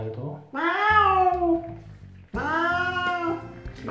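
Two drawn-out, loud cat meows with rising and falling pitch, each lasting over a second, from a cat being given a bath; running water or bathroom clatter sits faintly beneath.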